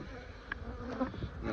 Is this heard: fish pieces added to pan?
no